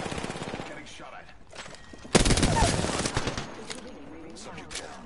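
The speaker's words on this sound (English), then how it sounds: "Getting shot at." Bursts of automatic gunfire from Apex Legends crackle close and loud, with a dense volley in the middle of the clip over steady game ambience.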